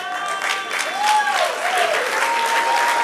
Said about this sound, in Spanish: si le vamos a aplaudir a Dios